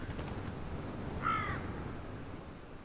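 A single crow caws once near an eagle carcass on an icy mountain slope, a short hoarse call at moderate distance over a steady wind-like background noise.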